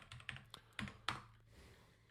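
Sparse keystrokes on a computer keyboard, a handful of separate clicks in uneven rhythm over the first second, fairly faint and close, followed by quiet.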